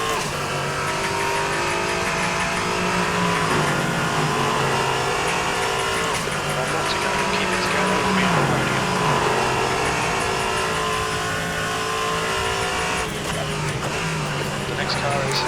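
Race car engines in a multiclass endurance sim-racing game with LMP3 and GT2 cars, a steady loud drone with shifting pitch and revs throughout, continuous and close.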